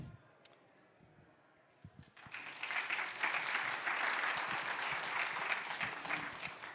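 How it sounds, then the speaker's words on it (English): Audience applause breaks out at a tech expo talk, rising after about two seconds of quiet room noise into steady, fairly distant clapping from a sizable crowd that holds to the end. "let's give another round of applause for Mr. Ben Potter from Coder."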